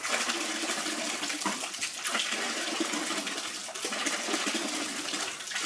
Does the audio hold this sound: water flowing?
yes